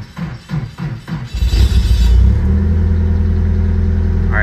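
A Nissan S14 Kouki with modified fuel setup cranks with several rhythmic starter pulses, then fires and settles into a loud, close, steady idle rumble.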